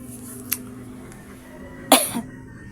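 Two short, sharp coughs, one faint and brief early on, then a louder harsher burst near the end, over a low steady background hum.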